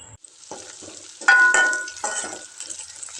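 Ginger and green chillies sautéing in a pan for potato rice, a soft sizzle with a few stirring scrapes and light clinks of a utensil against the pan, close by and moderately loud.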